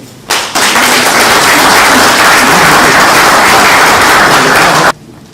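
Audience applause at a book presentation event in Brussels, a dense, sustained burst of clapping from a crowd that starts abruptly, holds steady and loud for about four and a half seconds, then stops sharply.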